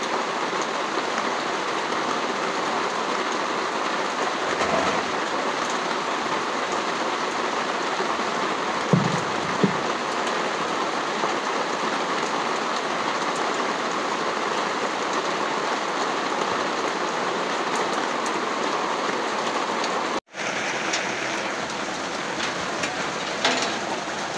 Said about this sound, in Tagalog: Mas lalong lumakas guys yung ulan